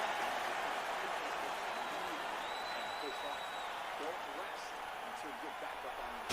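Arena crowd in the UFC 4 fighting video game cheering and applauding, a dense, steady roar that holds evenly throughout.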